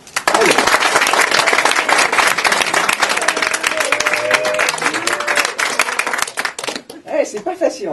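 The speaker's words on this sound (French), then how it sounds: "vous applaudissez très fort" An audience claps loudly and steadily, then the applause thins into scattered claps near the end, with voices heard underneath.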